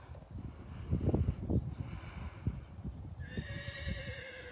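A trained horse walks on a loose rein with soft, irregular hoof thuds, and near the end it lets out one clear, wavering whinny. No voices are heard.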